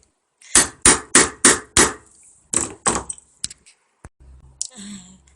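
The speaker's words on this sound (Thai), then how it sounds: "ลักษณะการตอกเราก็จะใช้ค้อนเนี่ยตอกลงไปด้านบนของ ตัวย้ำหมุดนี่ได้เลยนะคะ กดลงไปแรงๆสักห้าครั้งค่ะ" Metal hammer striking a rivet setter to fix rivets into a bag strap, five sharp, evenly spaced loud blows followed by a few lighter taps and small handling clicks, up close.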